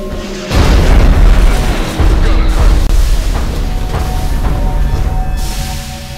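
Shot striking a giant robot in the final battle of XCOM: Enemy Unknown: a loud booming blast with rumbling debris, followed by further heavy impacts and a lingering roar.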